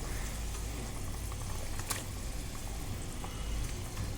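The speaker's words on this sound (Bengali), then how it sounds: "দেখুন ঝোলটা টকবক করে ফুটে উঠেছে" A pot of tangra fish curry bubbles steadily at a rolling boil, a constant close-up simmering hiss with no voices.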